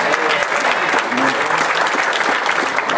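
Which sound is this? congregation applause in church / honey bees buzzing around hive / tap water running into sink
congregation applause in church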